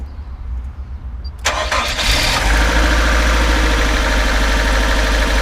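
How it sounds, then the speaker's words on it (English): Used car or camper engine cranking for about a second, catching with a burst, then settling into a loud, steady, rumbling idle close by. "Now we're going to start the car up here."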